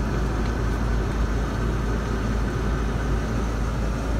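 A turbocharged Abarth 500C 1.4 runs with a steady, loud low rumble that holds evenly throughout, without talk.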